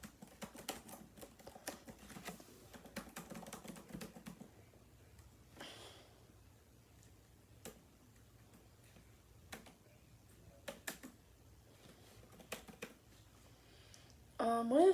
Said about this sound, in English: hold on, I'm still typing